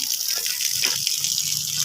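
A village tap left running wastes water in a steady, hissing gush that stays even and close throughout the short stretch, with no talking over it.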